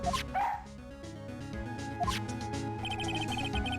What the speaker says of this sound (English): A cute dog.